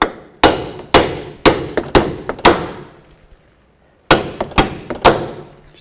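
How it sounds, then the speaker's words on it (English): Sharp metal hammer blows knocking the bolts out of a front strut mount on a 2005-2010 Chevy Cobalt, close and loud: five strikes at an uneven pace, a short pause, then four more, each ringing briefly with no talking. "And you want to hammer the bolts out."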